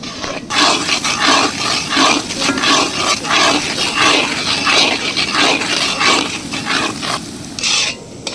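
Onion paste hits a hot pan for a coriander chicken roast, giving a loud, continuous sizzle close by, overlaid with rhythmic scraping of a spoon stirring it.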